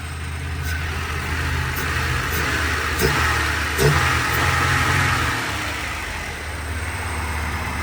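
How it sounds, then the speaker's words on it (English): A warmed-up $1,000 Honda Civic with a suspected rod knock revs up and settles back, its engine droning steadily close by with sucking intake noise over the throttle blips, no talking. "Makes a lot of cool sucky intake noises."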